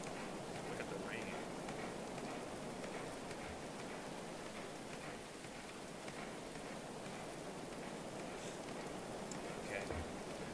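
Steady rain falls in the medieval colony-building game Going Medieval, a constant broadband hiss with scattered drop patter, even and unbroken, with faint voices in the background.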